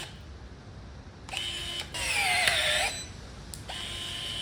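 A brushless Ozito electric pruning shear snips a branch, with a short motor whir, then a longer straining buzz as the blade closes, and a brief final click, all close and alone.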